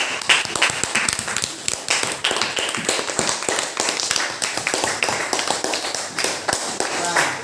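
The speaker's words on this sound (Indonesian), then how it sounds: "Tepuk tangan untuk kelompok 2." Students in a classroom clap for a group, a lively burst of many sharp hand claps in quick, uneven succession that continues for several seconds at close range.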